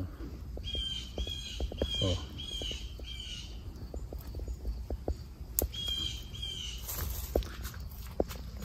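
Loud crow-like cawing repeats over scattered footsteps and rustling, with faint chirps in the background.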